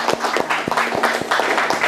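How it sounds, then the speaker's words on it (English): A group at a Sarasota community gathering with police officers and kids claps together in a round of applause, sharp individual claps popping through a dense, steady patter that stays loud and close for the whole stretch. "everybody give yourselves a round of applause"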